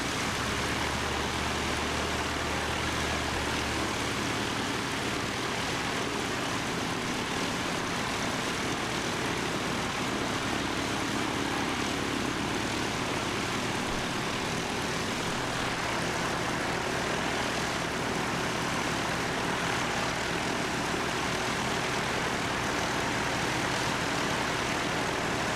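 Flight Z546, bound for Auckland, departs Christchurch Airport as a steady broadband aircraft roar that holds for the whole stretch, distant and moderately loud, with no voices.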